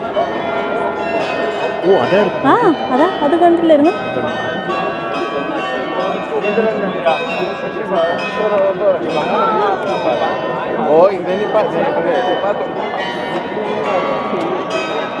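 Bells of the mechanical clock at Munich's New Town Hall ring out at noon over a busy square, ringing steadily through the whole stretch beneath nearby talk and crowd noise.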